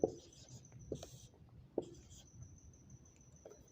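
Chalk writing on a board during a Hindi-language teacher-exam lesson, a series of distinct scratchy strokes and taps with pauses, fairly close, against a faint steady hum.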